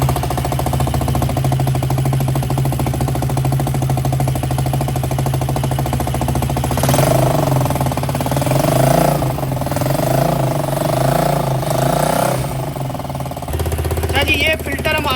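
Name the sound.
engine running with newly fitted exhaust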